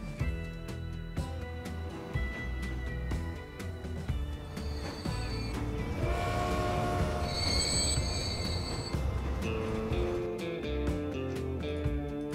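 A long train of 12 oil tank cars in Transport Fever rumbles along the rails with squealing wheels and metallic clatter, loud and continuous, the screech swelling toward the middle.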